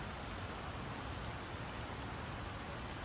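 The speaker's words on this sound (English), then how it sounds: "Can you hear the rain" Rain falls steadily outdoors, a faint, even hiss of drops with no breaks across the whole stretch.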